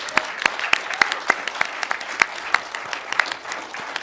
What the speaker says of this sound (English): I think we need another round of applause for our six candidates.